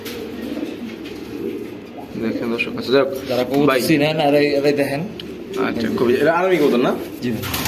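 Pigeons at a pigeon farm cooing in soft repeated warbling phrases close by, mixed in with people talking over them.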